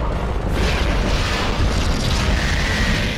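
A bomb blast in 007 Everything or Nothing, a loud sustained rumbling explosion with a dense roar that fills the whole moment.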